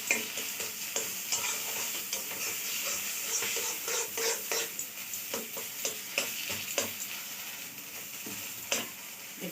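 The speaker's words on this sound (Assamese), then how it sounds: "এই বাদাম বাটাখিনি মই এতিয়া দি দিম আৰু দি পিনে অকণমান ভালকৈ মিক্স কৰি দিব লাগিব এইটোৰ লগত আৰু অকণমান সময় ভাজি থাকিব লাগিব বস্তুটো।" Ground peanut paste fries in a pan while being stirred, producing a soft, continuous sizzle broken by frequent scraping and tapping strokes of the spoon, close and moderately quiet.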